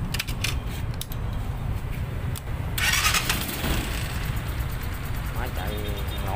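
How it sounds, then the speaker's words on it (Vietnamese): A three-wheeled ba gác cargo motorbike engine cranks and catches, then settles into a steady running sound, with someone talking over it. "Nổ máy cho các bạn xem thử nha."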